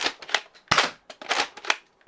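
A Nerf Lock 'N Load top-prime blaster, loaded with darts from the top, makes a series of sharp, close plastic clacks and snaps with short gaps between them, ending on one abrupt crack.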